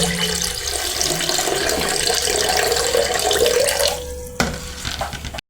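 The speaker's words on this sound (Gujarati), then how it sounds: "આપણે મગનું પાણી કાઢી લેવાનું છે" Water runs and splashes steadily as it drains off soaked, swollen moong beans into a vessel, a close continuous pour that thins out near the end with a sharp clatter.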